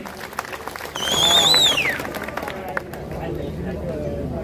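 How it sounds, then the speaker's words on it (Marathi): Applause swells from a crowd at an outdoor political rally in Maharashtra, a broad burst of clapping lasting about a second before settling into a steady hubbub under a loudspeaker voice. "एक जोरदार टाळी देऊया त्यांच्यासाठी"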